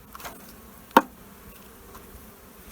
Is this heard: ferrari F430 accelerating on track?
no